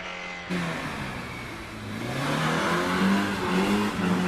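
Porsche Boxster 981 with a 2.7 litre engine launching off the line at a hillclimb, the engine note rising sharply after a brief pause then climbing steadily in pitch as it accelerates away, fairly close.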